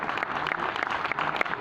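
Audience applause in a university auditorium during an international conference, a dense steady patter of many hands clapping throughout.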